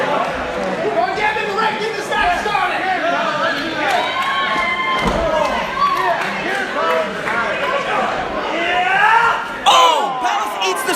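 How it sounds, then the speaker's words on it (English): An arena crowd at a live pro wrestling main event yells, whoops and cheers loudly and continuously, a dense roar of many voices with shrill individual shouts rising near the end. "these fans in Roar Valley have been hot all night, Chris."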